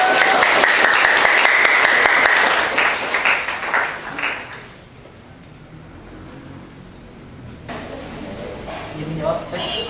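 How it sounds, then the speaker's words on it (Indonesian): Loud audience applause at a student council (OSIS) chairman and vice-chairman candidate debate, a dense burst of clapping that fades after about four seconds into a quieter room murmur. "Beri aplaus untuk semua kandidat."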